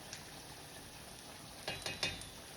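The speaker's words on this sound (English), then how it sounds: "So all we have to do now is just let these fries cook." Homemade fries frying in hot oil, a low steady hiss that flares into a few brief louder crackling bursts near the end, with no voices.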